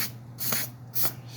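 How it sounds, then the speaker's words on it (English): Carburetor cleaner sprayed onto a chainsaw recoil spring, two sharp aerosol bursts of close hissing spray separated by a short pause. "spray the spring out"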